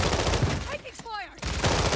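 Video game gunfire crackles in short, close bursts at the start and end, with a brief lull in the middle where a voice speaks.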